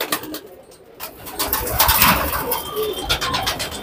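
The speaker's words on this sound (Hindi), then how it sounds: "इब्राहिम भाई के यहाँ ये पुरानी नस्लों के कबूतर, गहरे कलसरे कबूतरों का आपने यहाँ पर शौक किया" Old-breed pigeons of a deep kalsara variety cooing close by at a keeper's loft, soft repeated throaty coos over a rustling, busy background.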